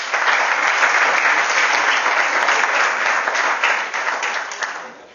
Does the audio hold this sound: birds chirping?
no